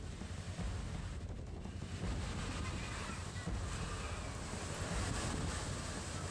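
Rough cyclone sea with high waves and strong wind, a dense continuous roar of surf and gusting buffeting the microphone at moderate distance.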